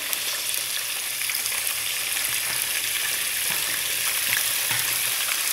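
Onions hit a pan of browned garlic and fry for a chicken and bell pepper sauce, giving a steady, close, hissing sizzle that holds evenly throughout with no voices.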